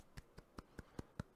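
Slow, soft golf clap of a single person, seven light evenly spaced claps close up in a quiet room.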